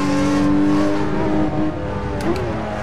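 A race car in Assetto Corsa revs hard while accelerating, its strong engine drone and harmonics loud and close, then easing slightly as the pitch shifts near the end.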